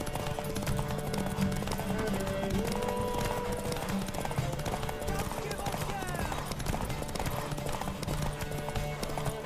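Rapid hoofbeats of a galloping horse in a horse race in The Witcher 3: Wild Hunt, a continuous clip-clop rhythm running throughout under game music and occasional character voices.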